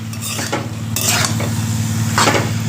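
Shredded cabbage frying with spices in a pan sizzles steadily while a utensil stirs and scrapes it in a few distinct strokes, close by.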